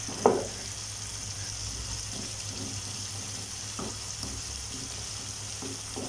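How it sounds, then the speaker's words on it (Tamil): Tinned tuna is mashed with tomato and onion in a frying pan for a tuna gravy. Faint scraping and stirring strokes sound over a soft, steady sizzle, with a sharper knock at the start. "ஸோ இப்போ இதை நல்லா மேஷ் பண்ணி விடுங்க."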